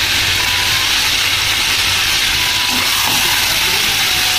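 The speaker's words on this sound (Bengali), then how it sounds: "হলুদ দিয়েও এভাবে নাড়াচাড়া করে নেব ভালো করে।" Turmeric stirred into spices frying in oil for a Bengali chicken curry gives a loud, steady sizzling hiss that runs unbroken from start to finish, with no talking.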